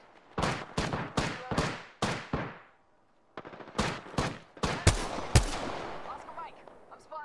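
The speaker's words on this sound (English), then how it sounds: "Shooting! I'm spotted. Taking fire." Bursts of automatic gunfire in the Apex Legends battle royale game, several rapid volleys in quick succession, then a brief pause and more sharp shots, loud and close.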